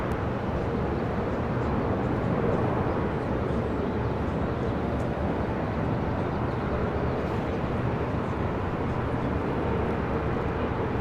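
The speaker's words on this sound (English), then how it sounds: "First of two Asiana A380 Supers here today. This is flight 202. Coming in from Seoul, of course." An Asiana Airbus A380, flight 202 from Seoul, arriving at LAX, giving a dense, constant roar of jet engines that stays loud and even throughout with no gaps.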